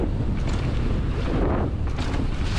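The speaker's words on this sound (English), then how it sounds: "holy smokes it's windy" Strong wind rushes and buffets the microphone in a steady roar during a fast mountain bike descent at Camp Fortune on a 2024 Norco Fluid Carbon, with no voices.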